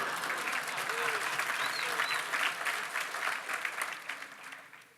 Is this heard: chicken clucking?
no